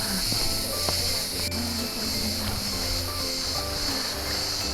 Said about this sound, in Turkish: Ağustos böcekleri sabahtan başlar, akşamın 10-11'ine kadar full devam eder.